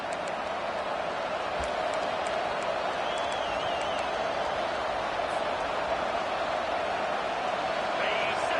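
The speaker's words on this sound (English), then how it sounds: "Listen to the crowd energy here in the early going." Stadium crowd at a college football game, a steady loud roar of cheering and noise sustained throughout, with commentary voices over it.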